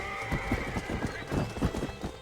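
A horse whinnies while hooves clip-clop in a rapid, uneven rhythm in Red Dead Redemption Remaster, close and moderately loud, heard on its own.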